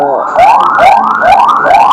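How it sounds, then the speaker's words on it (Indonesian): An ambulance siren wails loudly and close by, its rising sweeps repeating about every half second as it passes. "ada ambulan lewat"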